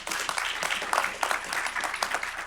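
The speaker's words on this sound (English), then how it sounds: "Round of applause for Tomas." An audience at a community event gives a round of applause, a moderate, continuous spatter of many hands clapping for a couple of seconds.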